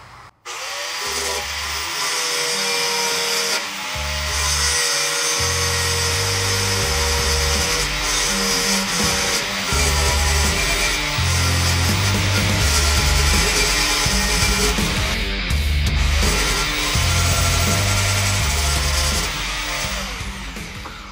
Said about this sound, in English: I'm gonna go ahead and grind all this smooth